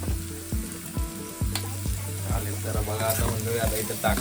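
Finely chopped onion fries in oil in a pot for mutton biryani, a steady sizzle broken by regular clanks and scrapes of a spatula stirring.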